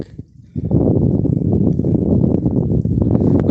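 Strong wind buffets the microphone outdoors in a flooded village area, a loud steady low roar that starts suddenly after a brief quiet moment and continues without a break.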